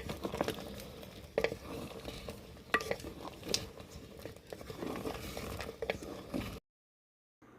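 Boiled tapioca being stirred in a pot, giving soft wet scraping and crinkly patter with a few sharper knocks against the metal, steady and close with no talking, ending in a brief silence.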